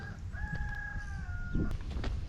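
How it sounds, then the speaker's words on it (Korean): A rooster crows once in a long, drawn-out call heard from a distance across a reservoir near a village, faint over a low outdoor background rumble. "저수지 넘어 수탉이 회치는 소리가 들려오네요"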